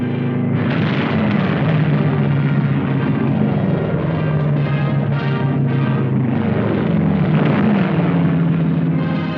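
Aircraft engines roar loud and steady throughout, a continuous droning rumble with slowly shifting pitch, consistent with World War II era planes flown by Chinese pilots and crews under American instruction.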